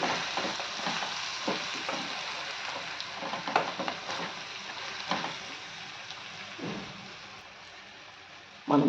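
Eggplant pieces are stirred with onion and tomato in a sizzling pan, with soft frying crackle under repeated scrapes and clicks of a spatula, close and moderately loud.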